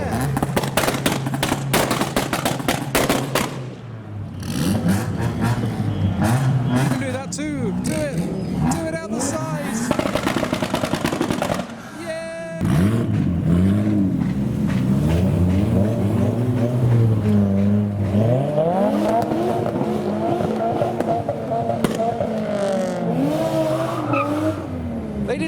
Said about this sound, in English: They did some simultaneous revving, that was well planned.